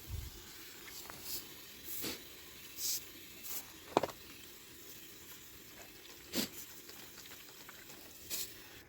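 Quiet, intermittent hissing sprays of water wetting a tire surface come in short bursts, several spaced seconds apart, fairly faint against a soft background.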